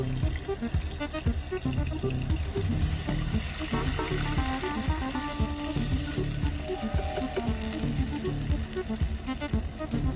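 Water poured into a pot of cooking Maggi noodles with salt already added, a continuous splashing and sizzling rush over a steady background, with no pause.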